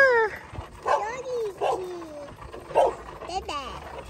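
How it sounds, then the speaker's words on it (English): Dog on a rural mountain farm, several short yelps and whines in separate bursts at mid distance, under the sound of people talking nearby. "Oh, doggy."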